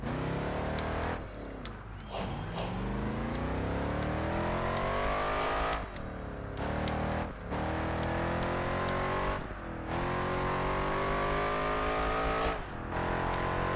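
In Project Gotham Racing 4, a race car's engine revs loud and continuous, pitch rising and dropping with repeated gear shifts, with brief tire squeals and dips as it brakes and accelerates.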